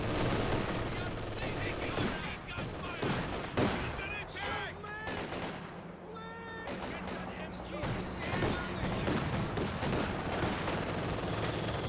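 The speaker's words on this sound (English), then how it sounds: "Small arm fire is doing some decent damage" Small arms gunfire rattles through a Company of Heroes 2 battle, repeated bursts and scattered shots mixed with other game effects and explosions over a dense, continuous backdrop, with faint talk in places.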